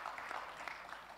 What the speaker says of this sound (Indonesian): Ini besar tepuk tangannya, Ketua Panitia berarti.